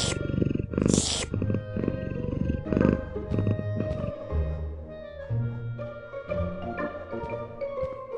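A cat in a cozy home purrs and growls in a low, rumbling rhythm with soft bursts of breath, heard close and alone against a light musical backdrop.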